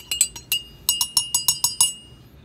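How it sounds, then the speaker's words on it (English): Instant Starbucks Pike Place roast coffee being stirred in a cup, a spoon clinking against the rim in a quick run of about a dozen bright ringing taps, close and fairly loud, with no voices. "get this stirred up."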